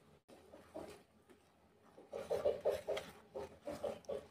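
Scraping and rubbing strokes repeat in a steady rhythm as a spoon stirs a thickening mixture in a pot, quiet and close with no talking.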